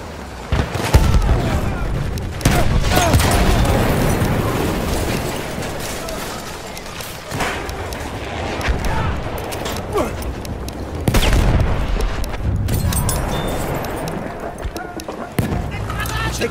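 A Battlefield 1 Conquest match at Prise de Tahure fills with dense gunfire, booming grenade blasts and hurried movement, loud and continuous, while players shout over the combat.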